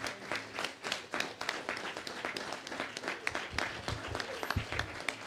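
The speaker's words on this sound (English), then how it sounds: "A better hand clap to our partners." Applause and hand clapping from an audience at a democracy masterclass session, moderately faint but steady with distinct individual claps and some crowd noise.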